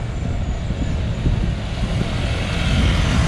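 A steady low rumble of semi-trailer trucks idling and moving in a protest line in Colombia, loud and continuous, with no voices.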